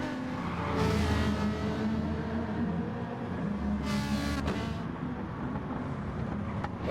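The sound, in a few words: Ferrari 458 Italia and C7 Corvette engines racing, Gran Turismo video game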